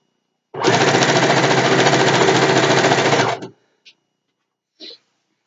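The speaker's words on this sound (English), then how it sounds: "Let's actually move it down so you can see the sewing better." Sewing machine stitching a satin pillowcase, one steady close whirring run of about three seconds, then stopping, followed by two brief faint clicks.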